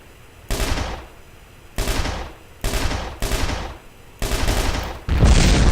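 Gunfire in the video game Red Crucible Firestorm comes in five or six sharp bursts of rapid shots, each ringing out and decaying, spaced irregularly, loud and close, ending in a denser burst.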